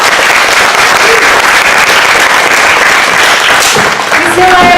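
Dense, continuous applause from an audience at a community birthday celebration, loud and sustained throughout with a few voices mixed in.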